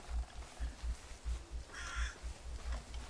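In a creepy Bigfoot-hunting horror video game, a crow caws in a short rhythmic series of rough, faint calls over a low pulsing ambient background.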